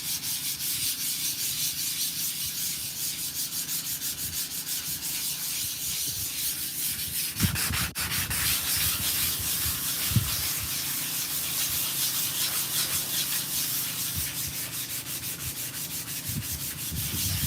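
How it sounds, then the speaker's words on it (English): Sandpaper of 400 grit rubbing steadily across a wooden sign outdoors, a continuous close scratchy hiss lasting throughout with a couple of brief knocks midway. "Okay, get the sanding. Got 400 grit here. We're gonna smooth this up."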